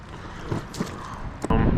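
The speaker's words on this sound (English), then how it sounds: "The wind is still insane out here." Strong wind gusts across Cleawox Lake in Florence, Oregon, buffeting the microphone with a rough, breathy rush that swells into a heavy rumble near the end.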